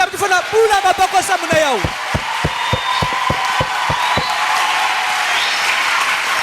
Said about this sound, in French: ça mérite des acclamations